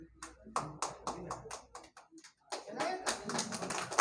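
Audience at a village gathering after a peaceful election in Bhagwanpur block, Vaishali district, clapping in quick bursts, pausing briefly, then resuming with fuller, denser applause, fairly close.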